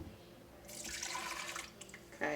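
Matcha mixture pours into a Vitamix blender jar in a steady liquid splash lasting about a second and a half, close and moderately loud, followed by a brief clunk.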